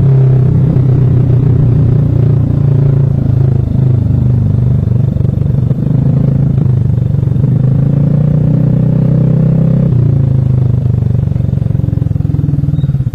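Vespa automatic scooters ride off together in a steady, loud, close engine drone with low rumble and slight rises in revs throughout, no voices heard.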